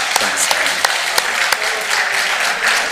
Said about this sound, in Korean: 여러분 격려의 박수 부탁합니다